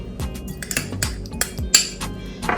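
A spoon clinks and scrapes against a bowl while mixing minced meat with green chillies and onion, in short irregular strokes close by with no talking.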